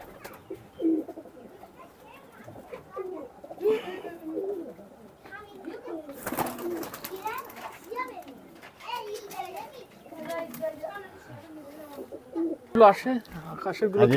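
Soft tippler pigeon cooing repeats under close, steady talk from an adult and children, with a few louder rustles and bumps, in an Indian pigeon loft.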